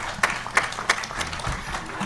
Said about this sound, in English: May we give a better round of applause to our chairman, the president-elect.